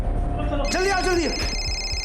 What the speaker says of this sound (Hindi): अरे ये फोन की आवाज आ रही कहीं से